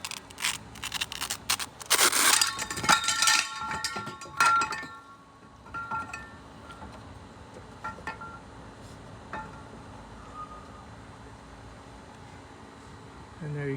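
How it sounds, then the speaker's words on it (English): Kids' aluminum-rung fire escape ladder for a three-story drop unfurling, a burst of close metallic clinks, rattles and scraping over about five seconds, then fading to scattered faint clicks. "And there you can see the fire ladder has been deployed"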